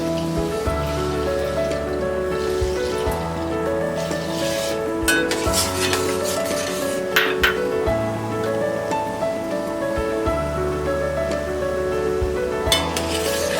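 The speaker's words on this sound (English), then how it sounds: "Now the oil has become nice and hot. I'm going to add some mustard seed for seasoning." Mustard seeds sizzle steadily in hot oil for a mango pickle seasoning, with a dense rain-like crackle and scattered sharp pops close by. No one talks.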